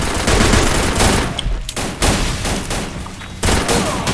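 Gunfire in the battle royale video game Free Fire, loud rapid bursts of automatic shots in several volleys separated by brief pauses, close and punchy with no talking.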